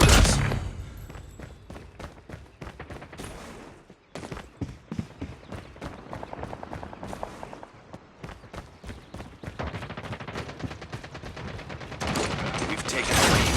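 A shotgun fires on automatic in a video game, rapid loud repeated blasts in bursts with brief pauses, layered over game effects and background sound.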